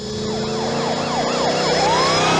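A police truck siren in a movie scene wails loudly and continuously, rising and falling in quick repeated sweeps with a steady engine drone beneath.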